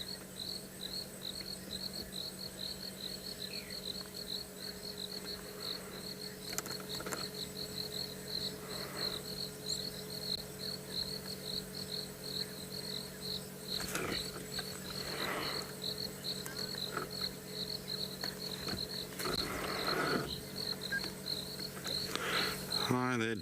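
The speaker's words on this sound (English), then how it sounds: "the sounds of the crickets is pure magic" Crickets chirp at sunset in an outdoor wildlife setting, a dense, continuous high trilling chorus that stays steady throughout, with faint occasional background sounds and no talking.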